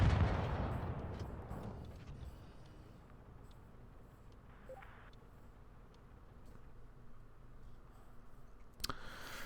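A heavy boom at the start rolls off into a long decaying rumble, followed by quieter low-level background and a sharp crack near the end, from tank cannon fire in World of Tanks Blitz.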